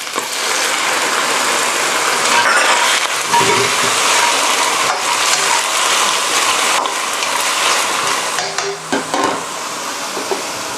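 Blanched Hong Kong kale stir-fried in a wok with a little oil and a splash of Chinese liquor gives a loud, continuous close sizzle with scraping stirring strokes and no talk.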